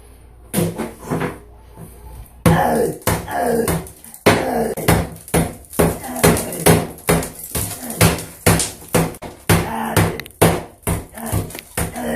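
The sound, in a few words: hammering and breaking open a wall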